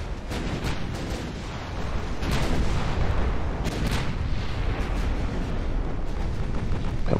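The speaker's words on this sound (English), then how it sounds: "Come on, 13-inch guns." Heavy 13-inch naval guns fire in the Admiral Dreadnaughts game during a 1910 Austro-Hungarian campaign battle, with rolling booms and explosions layered over a constant dense roar, loud throughout.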